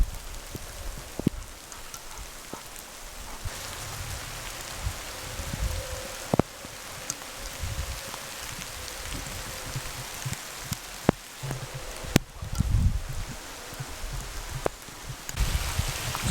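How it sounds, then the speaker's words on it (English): Soft rain falls steadily on a van campsite at Arrowhead Park, a faint continuous patter broken by occasional sharper drips and knocks nearby, with no talking. "Oh, it's raining."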